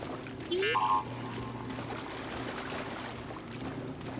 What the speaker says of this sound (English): But why does it fill with water though?